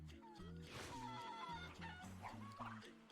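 Chickens cluck and squawk in quick, repeated bursts, with a game-like musical backing underneath.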